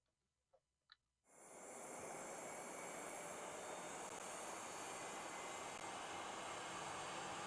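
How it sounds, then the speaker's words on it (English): Engines of a Concorde spool up in a flight simulator game: after a couple of faint clicks, a broadband jet roar swells in quickly and then holds loud and steady to the end. "Concorde Duplex is starting up."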